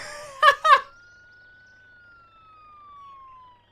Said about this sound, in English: Oh, look, the ambulance is going.